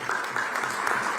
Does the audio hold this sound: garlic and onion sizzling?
no